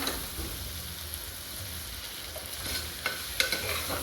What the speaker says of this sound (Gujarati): કોબી અને ગાજર મિક્સ છે બધું વેજીટેબલ એકદમ મિક્સ કરીને હલાવી નાખવાનું